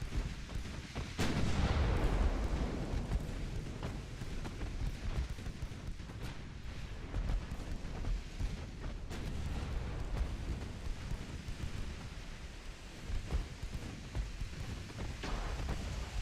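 Ship guns in a naval war video game boom repeatedly, a deep rumbling barrage of heavy shots with rolling low-end echoes, one big blast early and then a continuous stream of firing.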